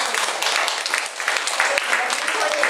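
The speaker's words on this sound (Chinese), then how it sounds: "所以大家给他鼓掌" An audience applauding together in a hall, a dense, even wash of many hands clapping that holds steady for a few seconds.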